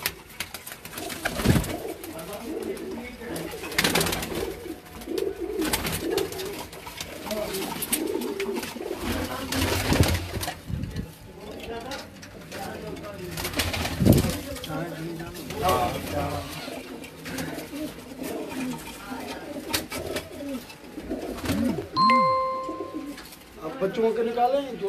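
Pet flying pigeons coo near and far throughout a loft in Karachi, with repeated soft calls under steady conversation and bustle.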